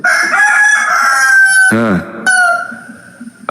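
A rooster crows loudly from close by outdoors, one long drawn-out cock-a-doodle-doo with a strained, wavering finish, followed by a second shorter call, no talking over it.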